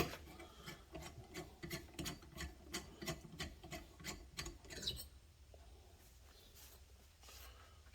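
A disc brake component is spun by hand while its inside is polished, producing a steady run of rhythmic raspy rubbing strokes about twice a second that stop partway through, leaving quieter rustling handling afterward.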